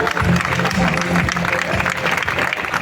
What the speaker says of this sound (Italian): Omaggio floreale e un grandissimo applauso per il re della Veneto Classic, Magnus Cort Nielsen